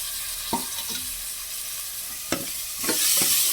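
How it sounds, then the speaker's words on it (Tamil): Mashed tomato cooks with masala in a pan under a spatula, several sharp scraping and knocking stirring strokes over a soft continuous sizzle, close and fairly loud. "இப்போ தக்காளி கொஞ்சம் நல்லா வதங்கணும் இந்த மசாலா கூட."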